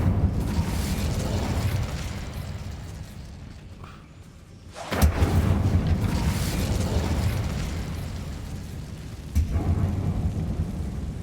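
Incendio fire spell cast in the Hogwarts Legacy video game: a sudden loud whooshing burst of flame that flares up sharply and rumbles on, followed by a second abrupt burst, over a constant low ambient rumble.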